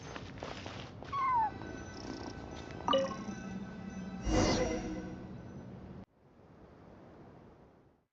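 Cat in the video game Genshin Impact, purring and giving brief cries against a rushing, wave-like ambience, with a few sharp tones over the top before the sound drops to a softer hiss.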